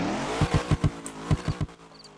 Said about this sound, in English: let's do the rev test now